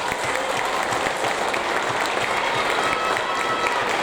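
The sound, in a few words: audience applause at awards ceremony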